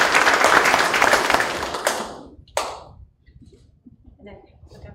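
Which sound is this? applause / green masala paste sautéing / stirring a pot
applause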